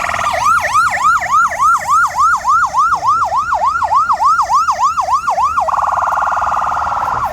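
American police car siren sounding at a vintage vehicle event at Scone Palace, Scotland: a loud, close, rapid yelping wail repeating steadily for several seconds, then settling into a sustained tone.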